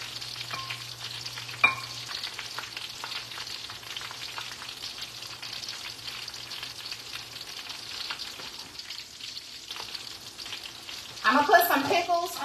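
Shrimp egg foo young patties frying in a pan until brown and crispy, a steady close sizzle running throughout, with a louder burst of crackling near the end as they are flipped; no voices.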